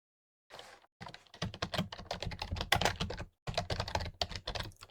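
Rapid close computer keyboard typing in bursts of clicky keystrokes, with a short pause before a final run of taps.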